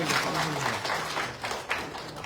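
Crowd at a political rally in Assam applauding a new party member, dense continuous clapping with voices mixed in underneath, fairly loud and sustained.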